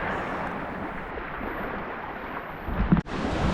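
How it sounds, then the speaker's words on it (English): Steady wind blowing through a harbour channel near Quail Island in Lyttelton, New Zealand, a broad continuous rushing roar close to the microphone, with a brief buffeting gust and dropout near the end. "it's frequently the wind just rattles through like this"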